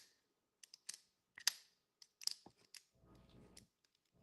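A folding knife with a backspacer and purple thumb stud clicks sharply again and again as it is opened and closed, in crisp irregular bursts, with a short rustle near the end.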